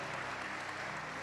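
A church congregation claps together, a thick, even wash of hands sounding faint and distant in the hall, continuous with no voices over it.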